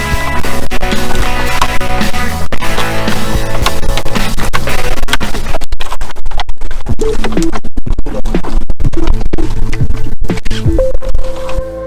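A fishing net is hauled in through a mangrove swamp, giving loud, continuous scraping, rustling and splashing close by, with knocks and crackles throughout.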